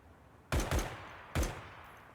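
Gunfire in a video game firefight across a runway: two quick, loud bursts close together, a pause, then a third sharp burst, each cutting off abruptly.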